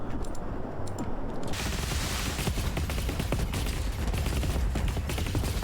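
Defensive turrets in the strategy game Rogue Command firing rapid overlapping volleys, a dense, continuous crackle of gunfire bursts that grows fuller after the first second and holds steady at moderate volume, with no talking.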